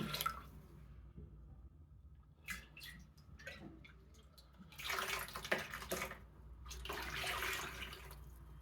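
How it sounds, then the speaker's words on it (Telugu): Half a litre of water poured into a plastic tub while making buttermilk chilli brine: a quiet, close trickle and splash that builds into two fuller bursts of pouring, with no one talking. "ఇంకో అర లీటరు నీళ్లు పోస్తున్నాను"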